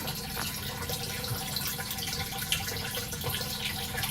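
Water running weakly through a siphon tube that failed to prime, a soft continuous trickle and splash with small drips, fairly quiet and close, no voices.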